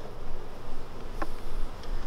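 Honeybees in an open beehive during hive inspection, a dense steady buzzing hum filling the background at moderate level, close and continuous, with a brief clunk partway through.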